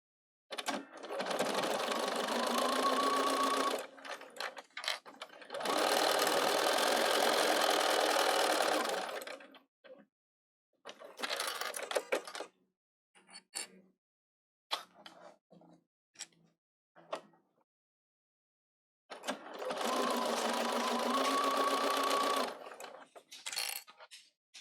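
A Bernina 770 sewing machine stitches the sides of a pocket in several long, steady bursts, with short stop-start runs in between and silent gaps between them.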